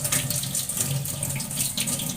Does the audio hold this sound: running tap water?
yes